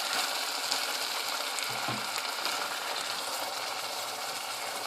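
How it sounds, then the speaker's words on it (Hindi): Yogurt poured into chicken already fried in a pot for a dhaba-style malai handi, setting off a steady, dense sizzle that runs throughout with no talking. "अब मैं इसमें दही डालूंगी।"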